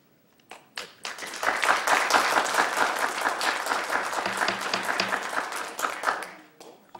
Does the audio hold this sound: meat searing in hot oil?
no